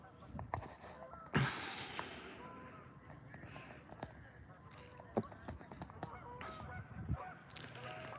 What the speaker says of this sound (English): There's some geese over there.